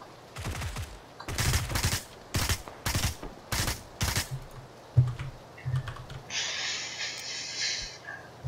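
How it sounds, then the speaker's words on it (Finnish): Gunfire in PUBG from a balcony sniping position: several sharp, loud broadband shots in a quick irregular sequence, followed by quieter game noise and a faint high steady hiss near the end. "Minä ampun parvekkeelta."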